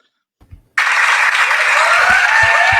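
After a brief quiet moment with a couple of soft knocks, applause for a comedic poetry set bursts in abruptly and carries on as a loud, dense wash of clapping from a crowd.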